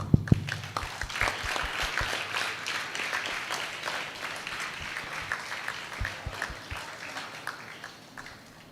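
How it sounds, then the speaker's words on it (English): An audience at an international conference applauds, with dense hand clapping that starts with a few sharp claps, carries on steadily for several seconds and then thins out gradually. "A big round of applause, please."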